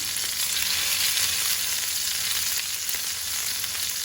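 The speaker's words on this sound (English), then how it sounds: "We're going to get a nice sear on both sides." Pork carnitas searing in a hot pan, a loud, dense, unbroken sizzle filling the whole stretch, close and steady with no voices.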